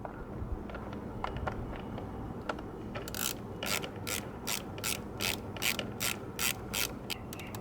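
Ratchet wrench snugging 8mm bolts on a scooter starter, a steady run of crisp, evenly spaced ratcheting clicks over a constant low mechanical background hum, close up with no talking.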